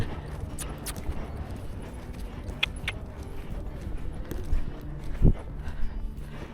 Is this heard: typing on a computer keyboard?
no